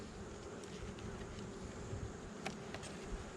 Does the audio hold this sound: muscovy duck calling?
no